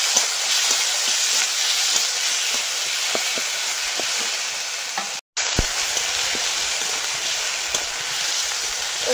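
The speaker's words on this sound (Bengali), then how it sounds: "আর একসঙ্গে মশলা কষিয়ে দেবো।" Spice paste of garlic, ginger, chopped tomato and slit green chili sautéing in hot oil for a chicken pilaf, a loud continuous sizzle with scattered crackles and pops, briefly interrupted once.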